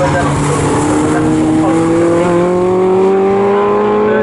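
Caterham race cars roar past at Snetterton circuit, loud engine notes rising steadily in pitch as they accelerate, with a brief tire squeal, continuous and close throughout.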